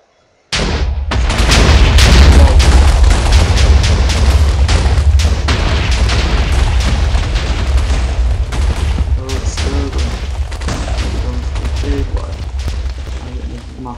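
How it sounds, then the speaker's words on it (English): A rapid chain of booming explosions bursts out in the video game Minecraft, loud and dense at first and then thinning into scattered blasts. "it's calculating lots of explosions."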